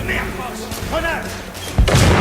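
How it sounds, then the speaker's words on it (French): A grenade blast in The Order: 1886, a heavy boom landing near the end of a short burst of gunfire and thuds, with a voice shouting over the action. "Grenade!"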